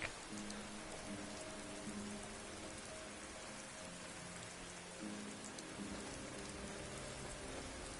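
Steady rain falls throughout in the video game Skyrim, a dense even hiss of drops on surfaces with faint tonal ambience underneath, no talking.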